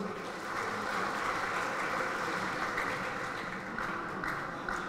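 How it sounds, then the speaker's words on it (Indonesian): An audience at a public gathering with Governor Ganjar Pranowo, where a child has just played with wayang puppets, claps in a dense, steady wash of applause that holds at an even level from start to finish. "Tepuk tangan Bapak Ibu."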